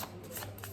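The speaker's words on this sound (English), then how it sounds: "But let's pull out some more cards and let's see." Cards being pulled from a deck during a reading, a brief close papery shuffle and slide with soft rustles over a steady low hum, no talking.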